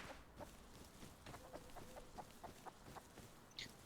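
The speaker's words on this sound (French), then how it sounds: "Il y a une poule!" Chicken clucking in the survival video game Rust, a string of short, rhythmic clucks at moderate distance, fairly quiet, with no talk over it.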